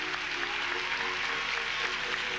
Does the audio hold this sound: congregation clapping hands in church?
yes